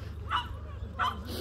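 Dogs at a dog park bark twice in quick, fairly faint yaps heard at a distance over a low steady background rumble.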